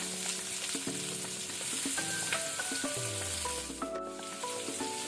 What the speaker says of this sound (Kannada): ಇದನ್ನೀಗ ಗೋಲ್ಡನ್ ಬ್ರೌನ್ ಆಗೋ ತನಕ ನಾವು ಫ್ರೈ ಮಾಡ್ಕೊಳ್ಳುವ